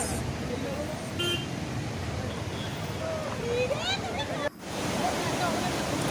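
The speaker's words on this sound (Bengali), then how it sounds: "জলের স্রোত দেখো একবার।" River water rushes steadily over a bridge causeway in a continuous loud roar, with faint vehicle noise and a person talking over it.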